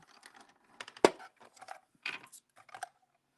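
Small dies cut through Yupo synthetic paper in a die-cutting machine, producing a series of sharp crackling snaps and clicks, one loud crack standing out among quieter irregular ticks, close and otherwise quiet.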